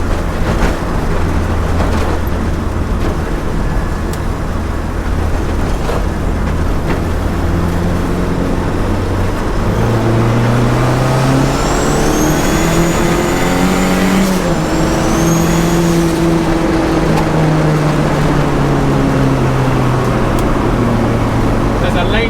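A car engine revs hard through a gear change during live mapping on a road, rising and falling in pitch as the gears shift, loud and steady, with someone talking at times.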